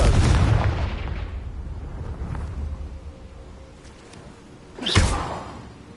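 A Confringo spell in Hogwarts Legacy bursts with a deep booming blast at the start, fading into a low rumble, then a sharp whooshing crack near the end.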